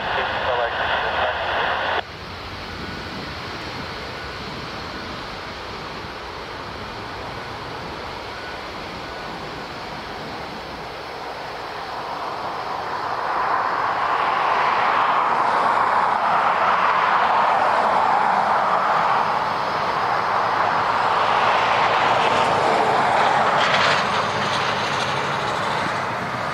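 An Aer Lingus jet at Dublin Airport builds into a broad, steady engine roar partway through and stays loud to the end, with people talking throughout.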